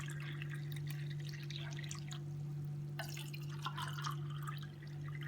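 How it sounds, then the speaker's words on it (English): Water trickles and drips into an empty condensed milk tin, with light splashy patters over a steady low electrical hum, close and fairly quiet, and no talking. "you're going to fill each tin with water"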